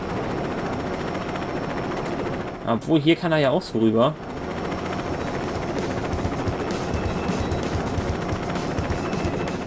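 Helicopter in the LEGO City Undercover video game, a steady whirring rotor drone running throughout, with someone talking briefly over it partway through.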